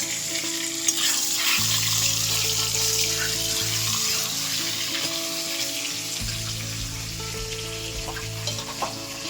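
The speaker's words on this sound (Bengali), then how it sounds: "এবার লাল লাল করে ভাজবো একটু কড়া করে ভেজে নেবো মাছের মাথাটা" A fish head fries in oil in a pan, giving a steady close sizzle with occasional stirring scrapes and some water-like hiss, alone without speech.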